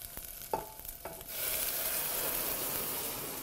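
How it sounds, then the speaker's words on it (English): A few scattered clicks of a pot, then heated broth pours into a pot of simmering ginger and green onions, bursting into a steady rushing hiss that carries to the end, close by. "And so now we're just going to add in our broth,"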